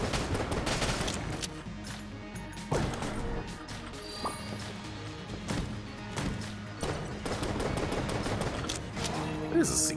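Rapid gunfire from a small pea-shooter pistol pounds away at a treasure chest in Enter the Gungeon, with repeated sharp shots, clattering impacts and game effects over a steady music bed.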